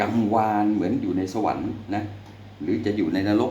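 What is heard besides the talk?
No distinct noise like a dog, phone or traffic.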